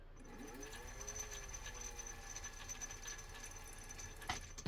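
Restored Singer 201 sewing machine running to wind a bobbin, a faint, steady mechanical whir with a rising pitch at the start and a small click near the end.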